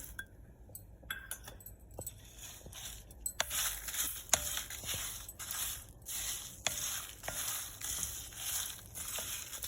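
Curry leaves and fenugreek seeds frying in a thick pan crackle and pop continuously, with sharp spitting bursts that grow busier after the first few seconds, close and fairly quiet.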